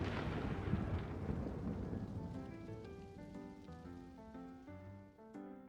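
Thunderstorm in the Minecraft video game: steady loud rain hiss with low rumbling, fading as a tonal game melody rises and takes over toward the end.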